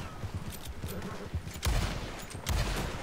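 Gunfire in Red Dead Redemption 2 Online: scattered single shots over a low rumble, then two louder, heavier blasts close by, with no talking.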